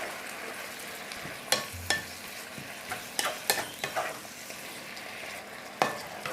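Drunken noodles are stirred and tossed in a sizzling pan with oyster and fish sauce, giving a steady frying hiss broken by irregular scraping knocks of the utensil against the pan.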